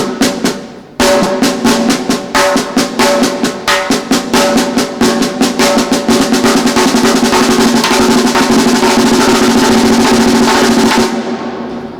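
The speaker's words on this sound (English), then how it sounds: "And I'm going to do it accenting every other one, right, left, going between right and left." A slow single stroke drum roll alternating right and left with every other stroke accented, a loud, close, steady chain of hits lasting about ten seconds, with a brief gap near the start before the pattern settles.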